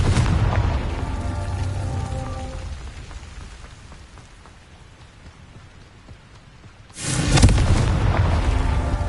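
A Confringo blasting spell goes off in Hogwarts Legacy, a heavy boom that fades into a low rumbling tail, then a second loud burst erupts sharply and lingers as dense crackling noise.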